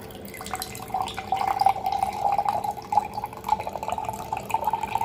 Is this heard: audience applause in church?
no